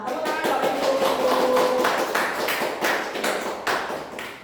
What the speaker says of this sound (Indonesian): Ya, tepuk tangan Bapak Ibu.